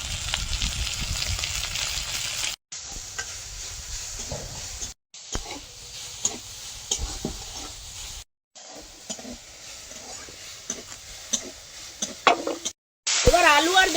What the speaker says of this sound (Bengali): এবার এর মধ্যে চিংড়ি মাছগুলো দিয়ে হালকা করে লবণ হলুদ দিয়ে ভেজে নেব